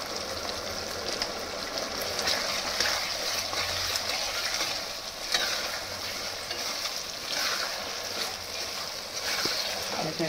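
Chili soybean sautéing in a pan with chili and salt, a continuous sizzle with the scrape of stirring running steadily and close throughout.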